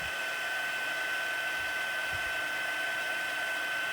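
A heat embossing tool blows a steady, even hot-air whoosh with a high whine as it melts white shimmer embossing powder on a stamped Christmas card, constant and close for four seconds with no talk.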